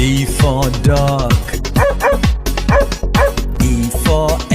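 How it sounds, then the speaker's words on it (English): A dog barks in a quick run of short, loud yips and woofs, repeated roughly every half second over a bouncy backing tune, close and continuous throughout. "D for dog"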